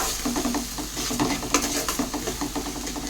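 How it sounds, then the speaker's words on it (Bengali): Masala with salt, cumin, turmeric, meat masala and Kashmiri chili powder sizzles in a pan while being stirred for ghugni, with steady frying hiss and repeated scraping strokes up close. "এটা দিয়ে ভালো করে আমি মশলাটাকে আবারও কষিয়ে নেব।"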